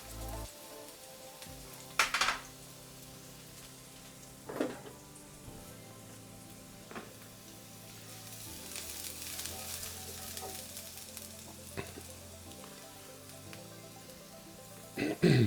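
Prawns frying gently in a pan, a faint steady sizzle with occasional louder clinks and stirring sounds under a person talking.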